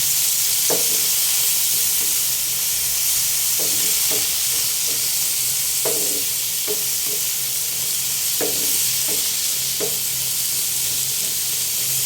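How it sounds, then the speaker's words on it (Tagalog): Carrots being stirred and sautéed in a pan give a steady, close sizzle, broken every second or so by scraping stir strokes, with no talking. "Siyempre, kailangan natin haluin."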